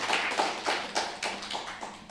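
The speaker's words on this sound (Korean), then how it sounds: "우리 감사의 박수 하나님께 드리겠습니다" A church congregation claps in a steady, even rhythm, each clap distinct and regularly spaced, moderately loud in a reverberant room.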